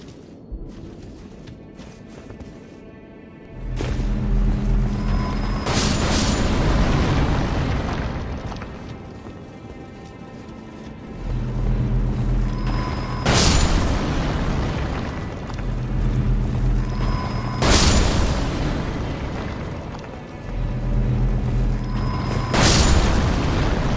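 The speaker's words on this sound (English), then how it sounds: "There are a few more of those exploding guys down there" Several heavy explosions from enemies blowing up in the Elden Ring: Shadow of the Erdtree area Stone Coffin Fissure, each a loud booming blast with a long rumbling tail. They come at roughly regular intervals over a constant low background.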